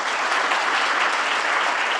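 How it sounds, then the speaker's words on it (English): Dense audience applause, loud and continuous, with many hands clapping evenly throughout a short burst and no talking over it. "Can we give Craig a round of applause?"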